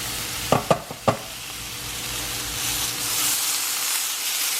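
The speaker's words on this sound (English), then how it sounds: "Now I've got these searing at a very high heat" Steaks sear in a pan at very high heat: a few sharp knocks of handling at the start, then a steady close sizzle and hiss that swells slightly toward the end.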